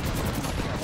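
Dense, continuous video game gunfire from a competitive scrim match, with rapid overlapping shots filling the whole short moment and loud, busy sound throughout.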